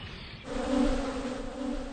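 Honeybees buzzing at an apiary, a steady, fairly faint drone of many wings that swells slightly and holds for a couple of seconds with no voices.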